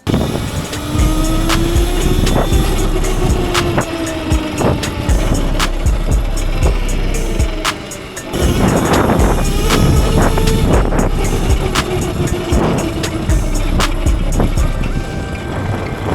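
An AIPAS S1 electric dirt bike accelerates from a standstill in mode 1, a steady whining motor rising in pitch with strong wind rush throughout and a brief dip partway through.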